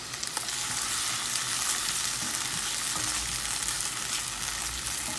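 Tomato dropped straight into hot ghee in a pan, a loud, even, continuous sizzle and crackle throughout with a brief clatter near the start.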